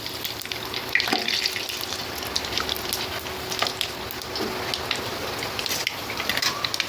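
Panch phoron, bay leaf and dried chilli crackle and sizzle in hot oil for khichuri, a steady dense hiss with scattered sharp pops, close and fairly loud, with no voices.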